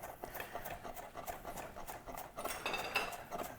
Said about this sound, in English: we're gonna come with the parsley and we're just gonna cut this up